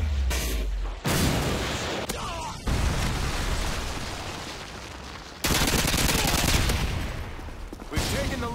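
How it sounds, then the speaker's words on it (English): A Predator missile strike in Modern Warfare 2 online multiplayer: loud, dense gunfire and booming impacts rumble almost continuously, with sharp cuts and a heavy burst midway, while a game voice calls out under the battle. "Friendly Predator missile incoming."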